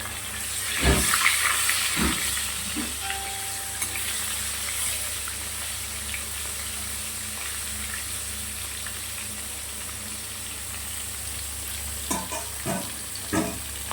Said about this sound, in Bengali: সব মাছগুলোই একেবারে ভেজে নেব কড়াতে দিয়ে